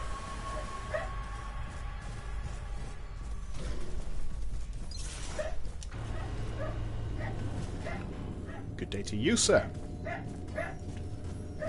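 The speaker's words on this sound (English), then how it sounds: "I'm sorry if you can hear my dog barking." A dog barks and yips in short bursts in the background, partly masked by someone talking and by game sounds with mechanical clanks.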